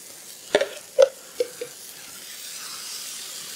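Venison saddle sizzles in a hot frying pan, with a few sharp clinks of a utensil early on and the steady sizzle swelling afterward.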